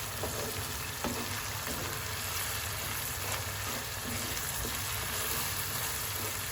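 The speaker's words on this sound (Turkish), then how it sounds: "Şimdi tekrar güzelce karıştırıyoruz." Food stirred in a pot on the stove while an evening dinner is cooked, with steady frying sizzle and faint scraping going on throughout, close and continuous.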